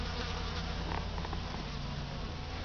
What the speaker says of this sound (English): there's got to be what, 50 flies buzzing around